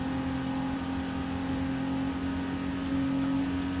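A Lego Porsche in Forza Horizon 4 drones along at steady revs, its engine giving a constant buzzy hum with a strong tonal whine and a slight lift in pitch near the end, no talk.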